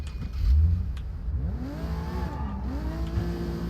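Car engine revving in the video game Sleeping Dogs, a continuous mid-pitched roar whose pitch sweeps up and down through several gear changes, close and steady with no talk over it.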